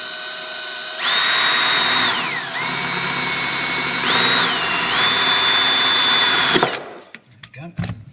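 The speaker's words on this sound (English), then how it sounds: "I'll film you snap the drill bit" A power drill whines loudly at high speed drilling into a double-layered steel car chassis, its pitch dipping under load then recovering, grinding steadily for several seconds before cutting off abruptly.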